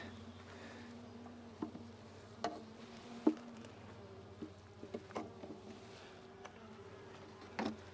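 Honeybees in a hive hum in a low, steady drone close by, with scattered light taps and clicks over the top and no talking.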